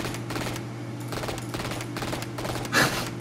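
A Call of Duty gun fires in burst mode while aiming down the sight, giving loud clusters of quick shots repeated at intervals over a steady game background.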